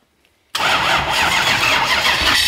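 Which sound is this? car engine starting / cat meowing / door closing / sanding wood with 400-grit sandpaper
car engine starting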